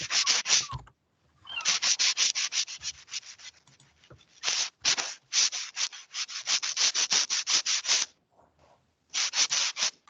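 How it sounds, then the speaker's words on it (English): Repeated rasping strokes of sanding in steady bursts with short pauses between, fairly loud, with no talking. "somebody doing some sanding somewhere. I hope it's sanding."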